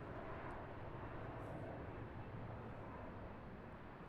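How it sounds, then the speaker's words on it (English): A CRJ regional jet departs from Charlotte airport, a broad distant engine roar holding steady throughout with no talk over it. "Another CRJ departure."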